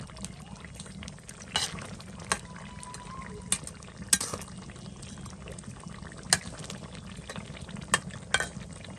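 Fish pieces cooking in a pan, a steady low bubbling sizzle with occasional sharp clinks and scrapes of a utensil stirring, no talk.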